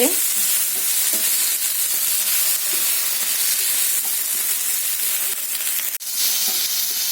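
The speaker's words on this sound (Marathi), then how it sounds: "हे टमॅटो आपले छान भाजून झाले" Green tomatoes roasting in a hot pan until golden, loud continuous sizzling and hissing close up with a sharp knock near the end, no voices.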